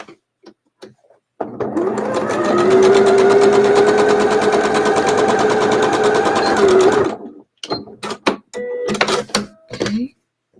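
A sewing machine stitches quilt fabric pieces for a Civil War sampler block in one continuous loud whirring run of about six seconds. Softer clicks and handling noises come before and after it.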